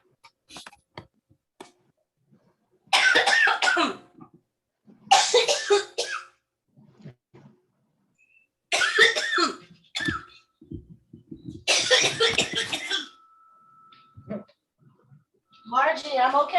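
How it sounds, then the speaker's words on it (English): A woman coughs in several loud, harsh bursts spaced a few seconds apart, with brief quiet breaths and small kitchen noises between them during a cooking session. "You guys have heard me cough."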